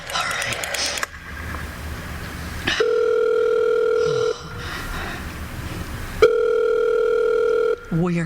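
Telephone in a radio drama rings in long repeated bursts, each a steady electronic tone, with brief voices and noises between rings.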